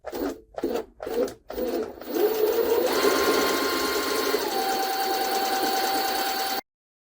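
A Jaguar SJ-23 sewing machine sewing a stretch stitch, starting with several short stop-start bursts, then running into a steady close mechanical whir with a whining tone that shifts partway before it stops abruptly.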